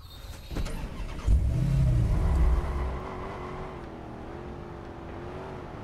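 A car engine in the video game Watch Dogs revs hard and drives on, a loud surging roar that settles into a steady hum.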